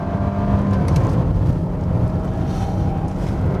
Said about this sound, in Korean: 가속 페달을 밟아서 엔진의 출력을 끌어내고 있을 때